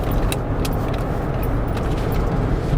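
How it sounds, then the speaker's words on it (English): Steady, dense cabin rumble and wind rush inside a moving Cadillac Escalade, with wind noise from a leaky driver's side rear window, an even drone with faint ticks throughout and no talking. "I hear a little bit of wind noise from the driver's side rear window."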